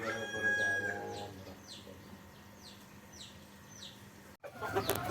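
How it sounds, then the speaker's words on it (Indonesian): Free-range village chickens (ayam kampung) on a small farm: a rooster crows once near the start, followed by a run of soft repeated clucks, then a sudden bump of closer handling noise at the end. "inilah keasikan budidaya ayam kampung yang dilakukan oleh Pak Dianto"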